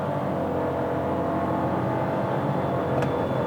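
A 2023 Fiat Pulse Audace Turbo 200 pulls hard through a 0–100 km/h run, a steady, loud engine drone filling the cabin without pause, with a brief faint click near the end and no voices.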